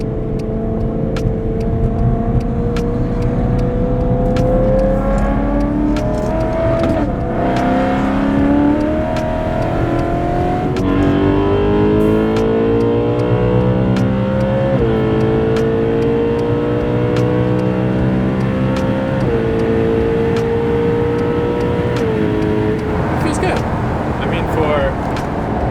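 BMW E9X M3 with its V8 engine accelerating hard on a highway, loud, climbing and screaming through the gears with brief dips at each upshift, heard from inside the car with a steady roar of road noise.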